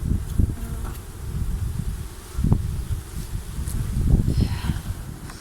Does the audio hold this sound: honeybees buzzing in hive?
yes